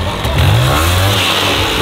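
A utility quad bike run in reverse during a stunt attempt: a loud, close engine rising in a short rev with a throaty rumble and clatter, no talking.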